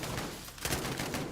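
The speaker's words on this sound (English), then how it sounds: "you might not have noticed that this actually sounds like real gunshots." Rapid bursts of gunfire crackle and boom in a dense, continuous barrage, loud and close, with a brief dip before the shooting intensifies again, from a Call of Duty video game using recordings of real weapons fired at a range.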